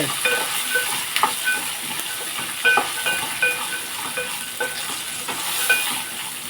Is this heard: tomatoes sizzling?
yes